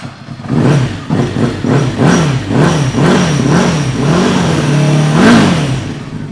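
A Honda motorcycle engine with a hole in it revving up and down in repeated rhythmic bursts, close and loud, ending in one higher rev.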